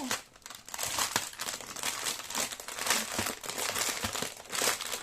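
Diamond painting kit packaging crinkles and crackles continuously up close, with rustling and small tearing noises as it is pulled open.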